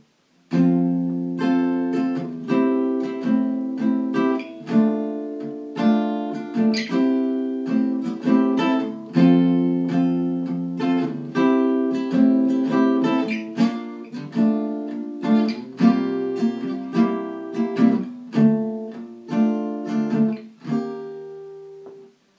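A guitar plays the chorus of a song in strummed and plucked chords in a lively, even rhythm, close and clear with no voices, ending on a ringing chord.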